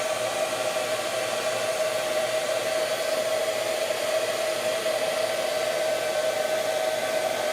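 Handheld CNC router spindle whining steadily as it takes a light finishing skim cut around the profile of a wooden bench dustpan, an even, unbroken high tone with no talk.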